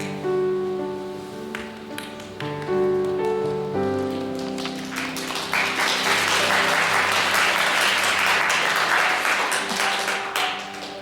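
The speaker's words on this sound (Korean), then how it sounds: "끝날 때마다 큰 박수 부탁드립니다" At a church confirmation service, applause breaks out over sustained music tones, building from scattered claps into a dense, steady crowd clapping that grows louder and continues to the end.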